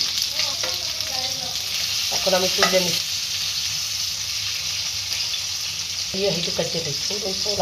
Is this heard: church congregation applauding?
no